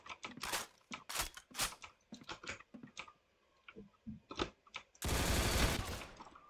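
Gunfire in the Roblox game Arsenal, a run of sharp separate shots in quick bursts followed by a loud sustained rattling blast near the end.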